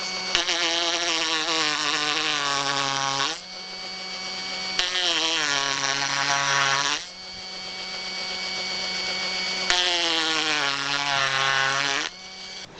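A small electric saw for cutting wood, shown running during a repair, whines with a steady tonal buzz in three long bursts. Each burst stops abruptly, with short gaps between them, and the motor pitch dips near the end of each run.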